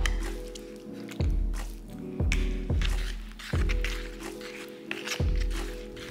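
Spackle thinned with water being stirred by hand, rhythmic wet squelching and squishing strokes roughly once a second, close and fairly loud, no talk.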